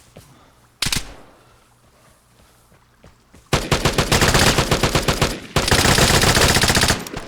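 Automatic gunfire in the video game Vigor: after a lone early shot, loud rapid bursts of rattling fire erupt and continue in two long, dense volleys, close and dominant, with no talking over them.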